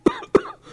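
Two harsh, close coughs from a sick man, about a quarter second apart, each with a short rasping tail, with no other sound around them.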